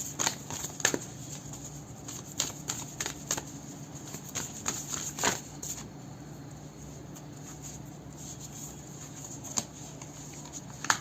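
Tarot cards are shuffled by hand at close range. Quiet, intermittent papery flicks and soft taps come in irregular bursts.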